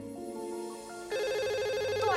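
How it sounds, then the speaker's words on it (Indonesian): A telephone rings in an indoor drama scene: a soft tone at first, then a loud, steady electronic ringtone with bright repeating harmonics that swells after about a second and rings on alone. "Tuh ada telepon tuh."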